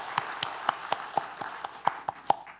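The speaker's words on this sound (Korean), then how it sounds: "우리 하나님께 한번 감사의 박수 올려드리겠습니다." A small church congregation claps during a Sunday service: sharp, evenly spaced claps, about a dozen in under three seconds, fairly close and with no other sound.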